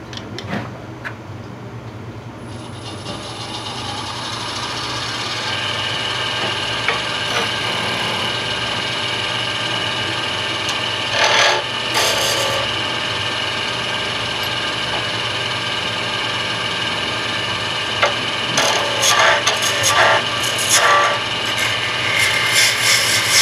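A wood lathe hums steadily while a spindle gouge cuts a thin-walled bowl, a continuous close machine drone broken by scattered bursts of scraping and hissing as the tool meets the spinning wood.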